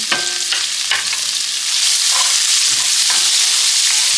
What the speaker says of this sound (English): That oil is ready. So I'm adding onions.